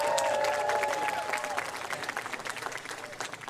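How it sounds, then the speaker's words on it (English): Audience applause for a trombone and trumpet solo at a school jazz band concert at a music festival, a steady dense clapping from a crowd that starts loud and gradually thins and fades, with a few faint voices mixed in. "if you're unfamiliar with jazz concerts like you did, it's okay to clap for the solo"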